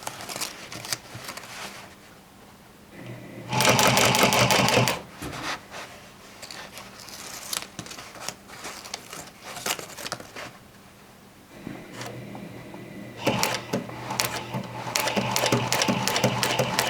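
A sewing machine stitches jeans slowly along the edge, whirring in two loud bursts. Quieter stretches of handling and fabric shuffling come between them.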